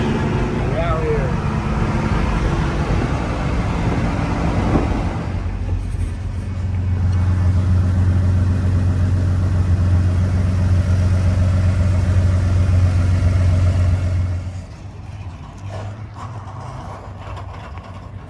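A Chevrolet C20 truck drives along with its engine running as a steady, close, mid-pitched drone that swells a few seconds in, holds, then drops sharply near the end.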